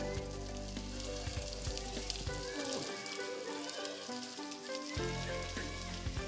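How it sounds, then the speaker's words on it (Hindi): A high waterfall plunging onto rocks in Sarmathura, Rajasthan, makes a constant loud hissing roar of splashing water that fills the whole recording. "ये पानी आप दिखाई दे रहा है, झरना गिरता हुआ पत्थरों के ऊपर"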